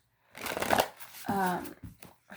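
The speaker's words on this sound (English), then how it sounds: "I'm gonna get some more oracle cards" A deck of oracle cards is shuffled in two quick riffles of rapid papery fluttering, followed by a few soft taps, all close to the listener.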